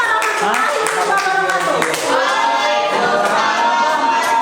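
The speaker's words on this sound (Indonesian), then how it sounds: "aplaus buat kita semua" A school class applauds at the close of a lesson, a steady patter of many hands clapping with a voice talking over it throughout.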